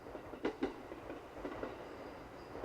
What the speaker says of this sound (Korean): 어쩐지 기차가 영원히 멈추지 않을 것만 같다.